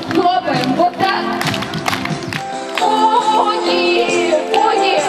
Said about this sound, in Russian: в ладоши хлопаем вот так